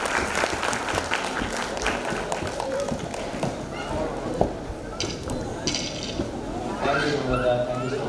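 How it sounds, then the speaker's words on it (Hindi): Audience applause for a speaker at a corporate evening function, steady clapping in a hall with crowd murmur and voices talking over it toward the end. "give a huge round of applause for our very own HOP Shri Anil Kumar sir on stage for his words."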